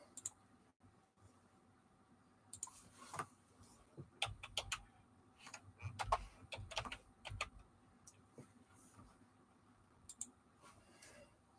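Irregular bursts of typing on a computer keyboard while looking up guinea hatching eggs online, quick clusters of soft clicks and taps close by, with pauses between runs and faint room noise underneath.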